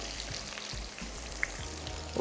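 Sliced onions fry with fenugreek seeds in hot oil. A dense, even sizzle and crackle runs the whole time, quiet and close, with a couple of small pops. No voices.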